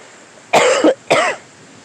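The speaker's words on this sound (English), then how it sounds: "Raindrop went into my lungs. That's what caused that cough, not COVID." Two loud, close coughs from one person outdoors during a rainstorm, the first longer with a throaty break and the second shorter, set against faint background hiss.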